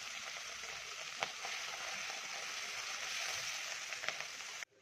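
Mustard seeds and spices sizzle steadily in hot oil, tempering for Maharashtrian amti dal, with a continuous close frying hiss and a few sharp pops and crackles.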